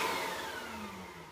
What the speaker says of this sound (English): turn the vacuum on using this switch